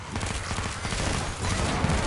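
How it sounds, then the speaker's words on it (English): A grenade launcher fires in a video game, heard as dense, loud, continuous blasts and bursts of gunfire that fill the whole short stretch, with no talking. "So right now, using that grenade launcher,"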